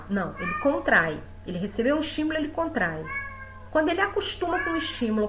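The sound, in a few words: cat meowing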